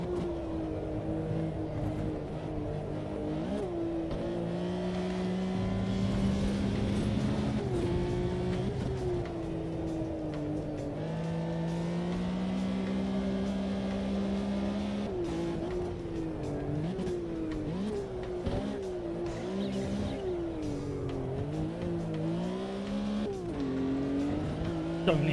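A race car on a flying lap in a sim racing video game, with a steady engine drone that rises and falls through gear changes and revs and includes occasional tire squeal, heard alone without talk.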